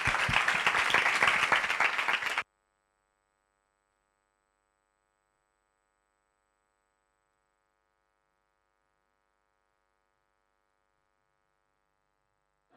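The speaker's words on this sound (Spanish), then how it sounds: "un aplauso para él" Applause from a conference audience for the speaker Héctor, a dense burst of clapping lasting about two seconds, then cutting off to near silence with a faint hum.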